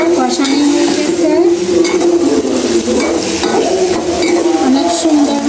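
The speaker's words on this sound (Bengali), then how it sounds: "এখন আমি এটা নেড়ে দিচ্ছি।" Vegetable curry with cauliflower being stirred in a cooking pot, a continuous loud sizzle with scraping and clinking of a utensil against the pot.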